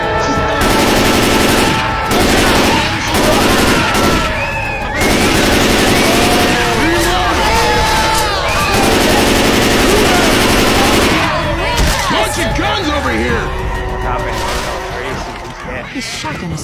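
A shotgun fires in a video game during a fight with Witch and Smoker enemies. Heavy, loud gunfire in rapid bursts runs through most of the stretch, with brief pauses and players talking over it.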